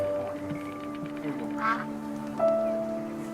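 Ducks quacking in the video game That Dragon, Cancer: a few short, fairly faint quacks from nearby birds over a soft game soundscape with steady tonal music.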